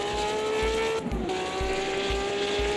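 A race car in a racing sim video game drives laps around Bathurst, its engine droning steadily with a rising and falling tone and rhythmic low thumps, loud and continuous, heard from outside the car with no one speaking.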